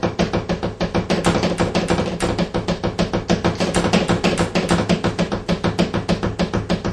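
Bass drum roll played with the feet using the heel-toe method, a steady rapid stream of evenly spaced kick strokes in sixteenth-note rolls, close and loud with no talking.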